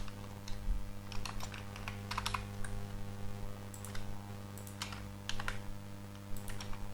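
Clicky computer-keyboard typing in irregular bursts over a steady low electrical hum, entering text while building a health-information website project.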